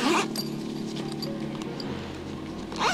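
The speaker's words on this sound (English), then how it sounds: "Zipper can be fully closed." A zipper being pulled shut on a sushi knife case, a quick rasping run at the start and another at the end, close and fairly loud against a quiet room.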